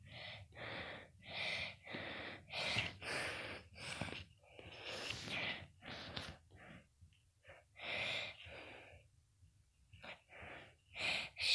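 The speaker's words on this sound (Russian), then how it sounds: "Так, фух, запыхался." Heavy, rapid panting after exertion, close and fairly quiet, with a steady run of ragged breaths and short pauses, no talk.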